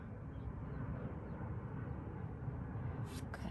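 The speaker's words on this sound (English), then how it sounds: "I'm sorry about the airplane." An airplane passes overhead, a faint steady distant drone of engine noise that holds through the whole stretch, with no talk, during a quiet indoor card making session.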